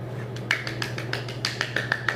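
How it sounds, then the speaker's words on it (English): A woman applauding herself at home after making Jamaican curry turkey neck: a few light, sharp claps spaced irregularly, fairly faint, over a steady low hum. "She's applauding herself."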